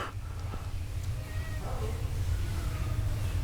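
A cat meows from somewhere up above, a couple of faint, short cries over a steady low room hum.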